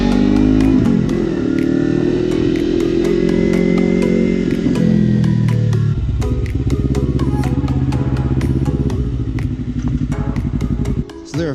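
A Kawasaki Ninja 300 motorcycle rides along with a loud, steady engine drone that shifts pitch as it changes gear, accompanied by rhythmic clattering ticks throughout, before cutting off abruptly at the end.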